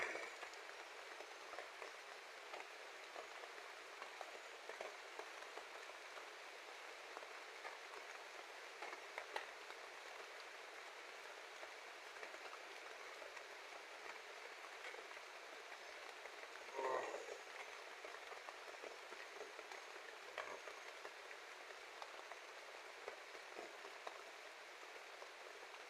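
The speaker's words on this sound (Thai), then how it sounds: "ฝนตก" Rain falls in a forest as a steady, faint hiss of drops, with a few louder taps standing out near the middle.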